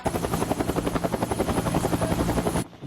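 A helicopter's rotor thuds steadily and loudly in a fast rhythmic chop for nearly three seconds, then cuts off abruptly. No voices are heard over it.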